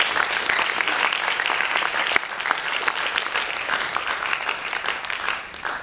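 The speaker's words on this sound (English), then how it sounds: "They deserve a round of applause for what they've done" Loud, dense applause from an audience at a class farewell and graduation ceremony, sustained for several seconds before tapering off at the end.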